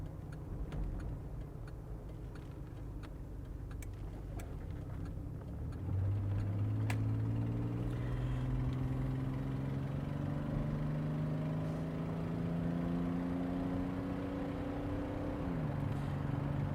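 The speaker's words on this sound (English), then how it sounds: "Wow, car shift's really nice." A 1986 Pontiac Fiero engine hums steadily, then rises in pitch as it accelerates, drops briefly at a gear change, and continues under road noise.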